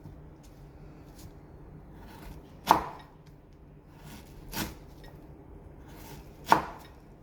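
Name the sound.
knife cutting jackfruit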